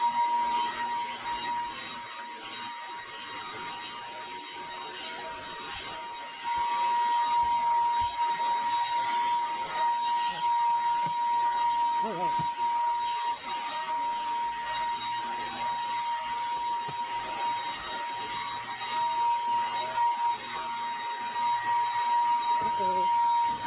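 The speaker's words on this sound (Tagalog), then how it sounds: "Vacuum muna tayo." A cordless vacuum cleaner runs continuously with a steady high whine that grows louder partway through, while a person talks over it at times.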